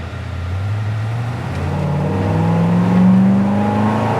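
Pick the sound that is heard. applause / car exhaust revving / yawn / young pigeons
car exhaust revving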